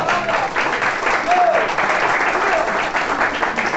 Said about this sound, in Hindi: सर के लिए तालियां।